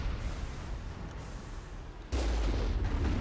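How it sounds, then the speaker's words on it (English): Rockets launched and exploding during Mass Effect combat: a steady rumbling barrage of low booms, swelling into a heavier, louder blast about two seconds in that keeps roaring to the end. "I don't like you guys doing all those rockets at me."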